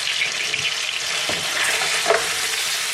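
Sweet and sour spare ribs sizzle loudly in a hot pan, a dense continuous frying hiss with a couple of brief scraping stirs partway through.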